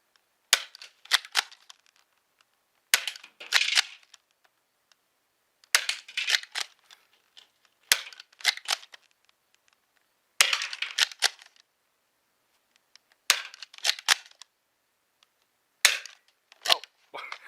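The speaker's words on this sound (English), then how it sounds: "we have the Mark II firing Dart Zone" A Dart Zone Pro Mark II foam dart blaster fires in seven separate bursts, each a cluster of sharp, snappy mechanical cracks with quiet gaps between them, close by.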